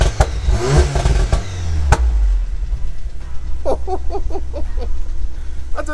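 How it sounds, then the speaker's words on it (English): A 500 BHP Audi S3 with a straight-through downpipe and exhaust revs up sharply in a loud, close roar that rises and then drops, followed by a series of quick, lighter blips and crackles. "Here are a set of wheels, it's got a nice exhaust sound."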